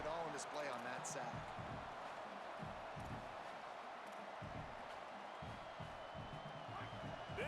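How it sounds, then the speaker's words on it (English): A stadium crowd in the EA Sports College Football 27 video game keeps up a steady, dense roar under play-by-play commentary, with dull thuds breaking through at intervals. "This crowd bringing the energy and noise early."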